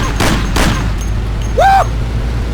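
Gunfire in the PC game Mafia cracks out in two quick loud shots near the start, followed by a brief rising whine-like effect, over a constant low rumble of a car engine.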